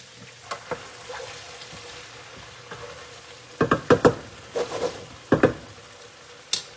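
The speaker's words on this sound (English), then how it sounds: "we're just going to let these cook a little bit. So we have a little vegetable oil down here and some butter." Pork chops fry in a skillet with vegetable oil and butter: a faint, low sizzle broken by scattered scrapes and clinks, with louder bursts of activity in the second half.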